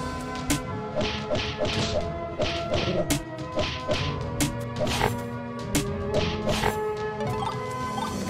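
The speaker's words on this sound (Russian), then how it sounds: "Ага, кристалл можно ломать." Crystals shattering in the video game Quest Hunter, a run of sharp smashing and thudding hits in quick irregular bursts over a steady tonal music bed.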